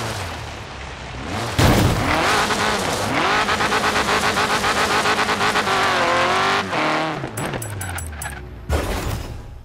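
Car in the racing game Forza Horizon 3 driving hard with a loud, continuous engine drone and rising revs, tires squealing through skids, with a sharp burst of impacts near the end.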